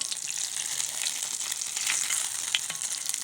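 Close, steady sizzling and crackling of batter frying in a hot pan, with no talking over it.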